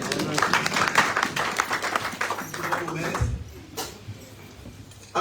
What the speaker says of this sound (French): nous pouvons applaudir pour la parole du Seigneur